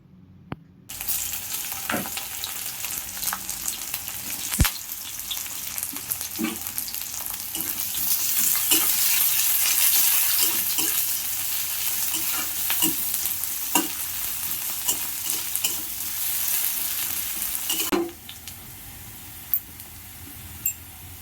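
Steady loud sizzling of onions frying in a pan with green chillies, with occasional clanks and scrapes of a utensil stirring, close by and continuous until it quiets near the end.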